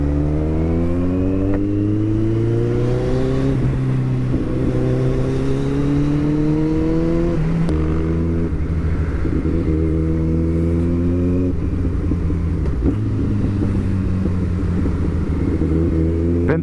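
Kawasaki ZX14R motorcycle accelerating on a road, the engine climbing through rising revs in several pulls with gear shifts between, loud and close with steady wind noise throughout.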